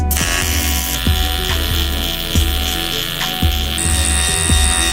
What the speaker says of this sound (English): then smoothed it out with an angle grinder